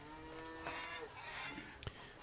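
Cows mooing in the farming video game Lumberjacks Dynasty, a couple of drawn-out, tonal lowing calls at moderate distance over faint ambient background.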